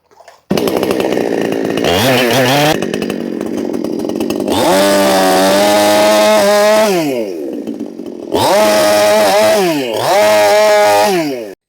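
An iBell two-stroke chainsaw engine revs loudly and steadily, rising and falling in pitch as the throttle opens and eases back, with a short lull before it roars again.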